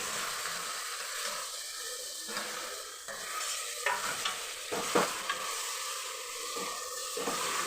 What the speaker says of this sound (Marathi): आता आपण याला चांगलं तेल सुटेपर्यंत चांगलं परतून घ्यायचं.